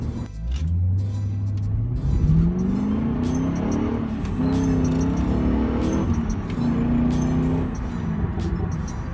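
A stick-shift Jeep drives off, its engine droning and climbing in pitch through successive gears with steady rumble and no talk.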